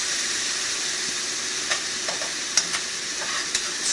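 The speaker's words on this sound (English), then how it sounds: "You throw in the fish sauce. It is going to sizzle" Fish sauce hits a hot pan and sizzles steadily while a utensil stirs and scrapes the bottom, giving a few sharp clicks over the constant hiss, close up, with no talking.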